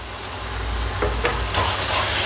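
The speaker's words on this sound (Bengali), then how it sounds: "নুন হলুদ কাঁচা লঙ্কা কচুর ডাঁটা সব একসঙ্গে ভালো করে মিশিয়ে নিচ্ছি।" Salt, turmeric, green chilli paste and taro stems being mixed together in a hot pan, with a dense steady sizzle and soft stirring scrapes, close and loud, no voices.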